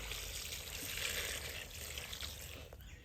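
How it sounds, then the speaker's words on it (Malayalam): Water is poured onto a used disposable diaper, giving a soft, steady trickling splash that stays faint and continuous with no talking. "നമുക്കതിലേക്ക് കുറച്ച് വെള്ളം ആഡ് ചെയ്ത് കൊടുക്കാം"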